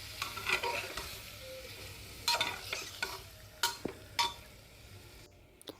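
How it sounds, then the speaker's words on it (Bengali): Mutton being stirred in a frying pan in a Bengali kitchen: a steady close sizzle runs under repeated scraping strokes of a spatula, with sharper knocks against the pan near the end and no talk. "তারপর এর মধ্যে দিয়ে দিলাম মাংসগুলো, দিয়ে ভালো করে মিশিয়ে নিচ্ছি।"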